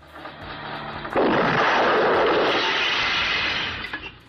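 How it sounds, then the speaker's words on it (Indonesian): A gunshot in a dramatic scene from an old film rings out as a sudden, loud blast that rolls on in a sustained, roaring echo for a few seconds before fading, over a faint music bed. "tiba-tiba Rahul menembak dan untungnya tidak mengenai Sunil."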